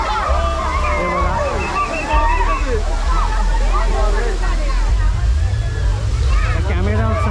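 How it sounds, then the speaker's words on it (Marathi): Water from a musical fountain spraying and splashing at an outdoor park during a laser show, a loud continuous rushing wash close by with people talking over it. "कॅमेऱ्यावर सगळं पाणी उडत आहे, कारण ते फाउंटनचे फवारे सगळे मारत आहेत"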